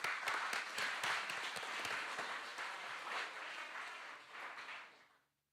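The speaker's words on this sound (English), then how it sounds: "So a big clap to them as well." An audience at a spring university session breaks into sustained applause, a dense, even patter of many hands clapping that keeps up for several seconds before tapering off into silence.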